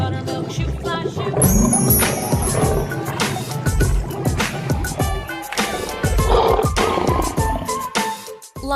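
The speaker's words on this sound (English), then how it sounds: "Lion." A lion roars amid busy, cluttered background music and sound effects, the growling roar swelling loudly near the start and recurring through the dense mix.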